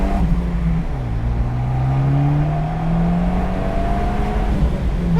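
A Fiat 124 Spider Abarth's turbocharged engine revs steadily upward toward its red line, a loud, close, continuous rising drone with no pauses.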